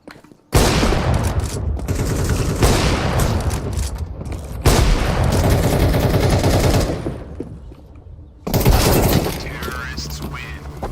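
Heavy explosion and dense gunfire during a Counter-Strike 2 match, with loud sustained bursts broken by short gaps, close and harsh, as voices talk over it.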